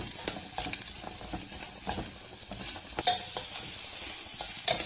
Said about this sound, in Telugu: ఇవన్నీ వేసి ఫ్రై చేయాలి.